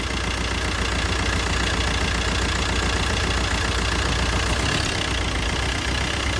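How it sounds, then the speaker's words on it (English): A 2009 Opel Astra engine idles steadily after a new alternator has been fitted, giving a loud, continuous, even drone with a faint rhythmic knock and no pauses or talking. "So engine still running"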